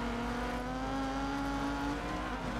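A rallycross car in Colin McRae Dirt 2, a Subaru Group N or Mitsubishi Evo X, gives off a steady, rising engine whine with a constant drone underneath, faint and continuous throughout.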